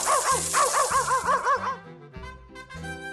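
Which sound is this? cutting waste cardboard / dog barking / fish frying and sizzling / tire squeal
dog barking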